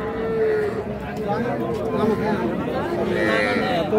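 Cattle, including a cow with a young bull calf, low and moo at a busy livestock market in Ambari, heard up close under nearby voices talking continuously.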